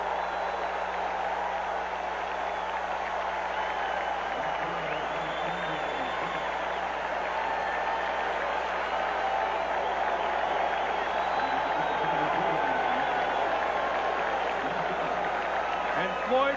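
A packed stadium crowd roars steadily at an NFL game between the Green Bay Packers and Tampa Bay Buccaneers in 1992, a constant distant wash of cheering under continuous commentary.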